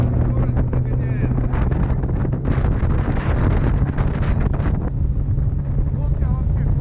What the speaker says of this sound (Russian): Лодка вообще классная, хорошо идет.